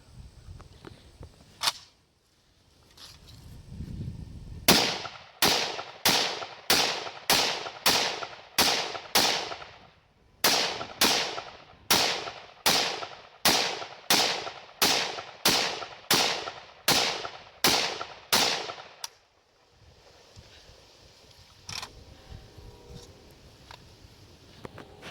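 I.O. Inc. AKM-247 rifle shooting Brown Bear full metal jacket ammunition: a steady string of loud, evenly spaced single shots, about twenty in two runs with a short pause between, ringing outdoors with no talk.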